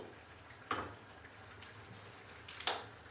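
Two sharp metallic clinks, a lid set on a pot of chicken pilaf, spaced about two seconds apart over a faint kitchen hiss.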